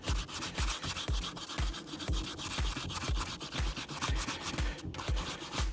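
A scuffed alloy wheel rim is rubbed back by hand with abrasive paper to feather out the damage, making a rapid, rhythmic scratchy rasp of steady back-and-forth strokes, close and continuous, without speech.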